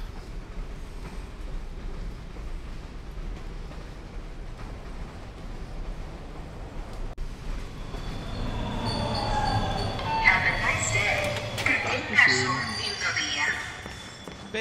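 A train rolls along in the video game Bendy and the Dark Revival, a steady low rumble that grows fuller and louder partway through, with metallic clanks and rattles on top.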